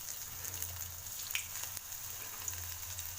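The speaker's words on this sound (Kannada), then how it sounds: "ಇವಾಗ ಎಣ್ಣೆ ಕಾದಿದೆ ಒಂದೊಂದೇ ಫ್ರೈ ಮಾಡ್ಕೊತ ಹೋಗಿ" Avalakki samosas frying one at a time in hot oil: a soft, steady sizzle with faint crackles and pops, fairly quiet and without voices.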